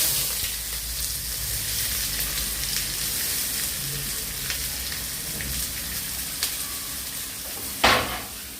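Sliced onion frying in hot oil with fennel seeds and cinnamon stick, a steady close sizzle with crackling pops throughout and one sharp clatter near the end.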